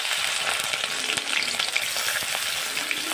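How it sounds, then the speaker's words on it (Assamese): Grated onion frying in hot oil in a wok, a loud, dense, continuous crackling sizzle heard up close with no voices. "এতিয়া মই তেলত দি আছোঁ পিঁয়াজখিনি"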